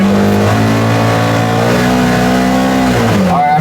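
A Polaris side-by-side engine in sport mode revs loudly and close, holding a strong droning pitch that rises and then drops off near the end, sounding almost like an opened exhaust.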